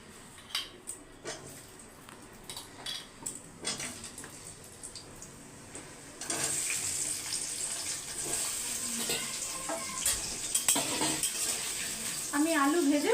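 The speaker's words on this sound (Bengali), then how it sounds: "এবার আলুটাই মাছের তেলের মধ্যেই ভেজে নেব" Potatoes frying in oil left over from frying katla fish, for a fish-head muri ghonto. Quiet kitchen clatter comes first, then a loud, steady, hissing sizzle takes over for the second half.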